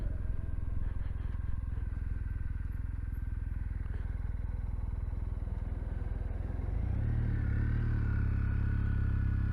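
A Kawasaki W800 motorcycle cruises on a sunny day, its engine a constant close drone mixed with road and wind noise, then the revs climb into a stronger, higher note near the end.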